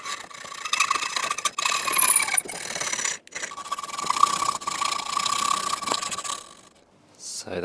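A ratchet wrench tightens a nut onto a bolt, giving a long run of fine clicking with short pauses and a brief metallic clink near the end.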